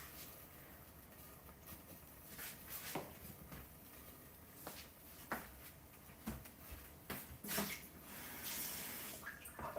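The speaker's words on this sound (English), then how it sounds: "I'm just going to add slightly bit of water so that they don't get burned." Water is poured into a pot holding pigeon peas and a potato, a quiet continuous splashing and trickling with a few louder clinks and sloshes, faint and close.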